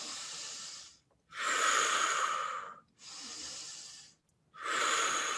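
Slow, deep conscious breathing during a breathwork session, four long airy breaths alternating in and out with brief pauses between, close and steady with no talking.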